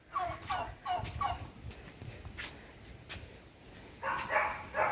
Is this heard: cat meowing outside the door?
no